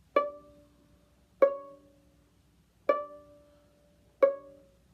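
Four plucked-sounding violin notes, evenly spaced about a second and a half apart, each ringing briefly and decaying in a quiet room.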